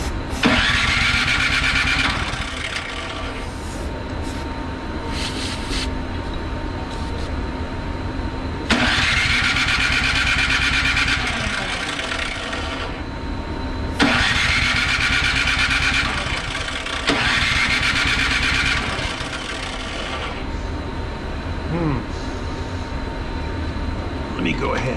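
A Craftsman snow blower's engine with starting trouble runs loud and close, its steady roar surging into higher revs in repeated bursts.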